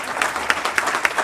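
A room full of people at a board of education meeting gives a short round of applause, dense clapping with a few sharper claps standing out, moderately loud and close.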